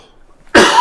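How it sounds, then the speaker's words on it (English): A man gives a sudden, loud cough after drinking coffee, a single harsh burst that follows near-silence and holds strong for a moment, close to the microphone. "I get a good cough going on here"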